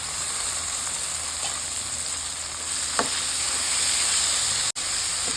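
Chopped vegetables frying in a pan for vegetable uppit, a steady close sizzle and hiss throughout with a faint stir or clink near the middle and a brief drop-out near the end.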